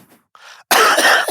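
A person gives a single harsh, loud cough that bursts in close to the microphone after a faint breath, rough and throaty with no speech.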